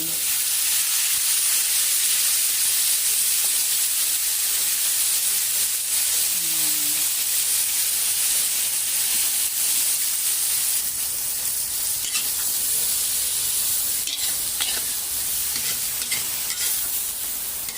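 Vegetables for pancit stir-fry in a pan with a loud, constant sizzle and hiss over the whole stretch, punctuated by faint scraping and stirring.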